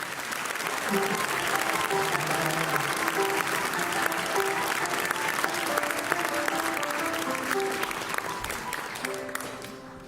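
School centenary gala concert audience applauding its history teacher, sustained full-hall clapping that continues loud and steady for about ten seconds before tapering slightly at the end.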